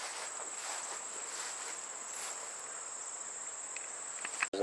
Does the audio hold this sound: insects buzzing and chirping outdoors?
yes